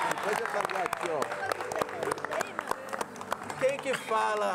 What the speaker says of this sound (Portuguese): Pode aplaudir aqui, ó.